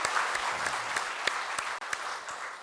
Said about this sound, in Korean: 우리 한번 박수.